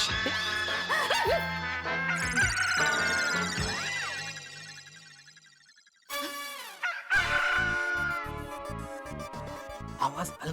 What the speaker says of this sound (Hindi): लेकिन मुर्गा अलमारी में कैसे गया?